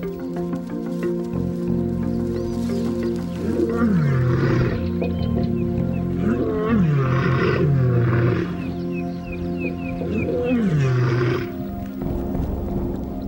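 Lions at Etosha roar in repeated deep, rumbling calls that rise and fall in waves over a long stretch, loud and fairly close against a background of other wild animal sounds.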